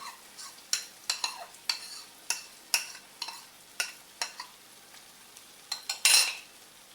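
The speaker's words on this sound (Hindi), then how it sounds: "अब मैं अंडे डालने लगी हूँ।" Beaten eggs go into a pan of spiced masala for dhaba-style egg bhurji, with repeated sharp scrapes and clinks of a spoon against the pan over a low, steady sizzle.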